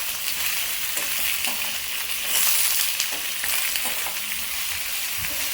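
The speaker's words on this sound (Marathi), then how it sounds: "आता त्याच्यामध्ये मी टाकत आहे टोमॅटो कापलेला आणि दोन्ही पण थोडंसं एक 2 मिनिट छान परतून घ्यायचं आहे।" Chopped tomato and onion sautéing in a hot pan for paneer masala make a loud, dense, continuous frying sizzle with a brief louder swell partway through and faint stirring scrapes underneath.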